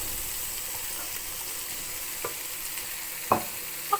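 Minestrone soup being stirred in a pot, a steady low simmering hiss with a few soft spoon knocks against the pot toward the end, close and fairly quiet, no voices.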